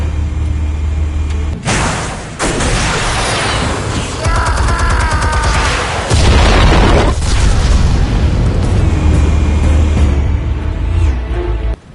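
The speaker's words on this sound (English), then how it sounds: "Explosives armed. Fire when ready." Explosives detonate in the video game Batman: Realm of Shadows: a sustained, loud rumbling blast with crackling bursts and a deep boom partway through, filling the whole stretch with no talk.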